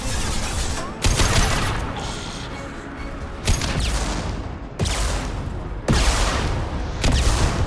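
Heavy weapon fire in Mass Effect 2, several loud blasts and sustained bursts of shooting cut by abrupt stops, with crashing impacts between volleys.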